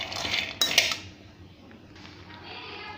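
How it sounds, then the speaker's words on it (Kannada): Peanuts roasted in a pan on a gas stove make close metallic scrapes and clinks of a utensil against the pan, with a sharp clatter near the start and a soft, steady rustle after it. "ಅದೇ ಬುಟ್ಟಿಯಲ್ಲಿ ಶೇಂಗಾ ಕೂಡ ನಾ ಇವಾಗ ಹುರಿತಾ ಇದ್ದೀನಿ"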